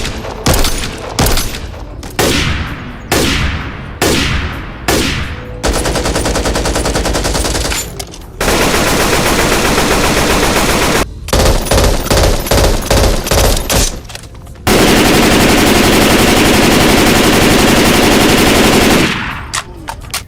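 Rapid automatic weapon fire from the zombie shooter game Back 4 Blood, with loud bursts, short choppy volleys and long sustained streams of shots, all up close and with no talking over them.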